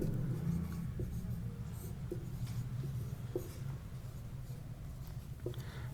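A pen writing the cylinder height while a maths exercise is worked out, with soft scratching strokes and light taps on paper, faint and close over quiet room tone.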